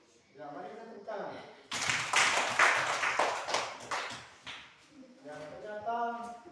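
Fifth-grade schoolchildren clap together in a classroom in a burst of brisk, uneven applause lasting a few seconds, framed by an adult speaking Indonesian before and after.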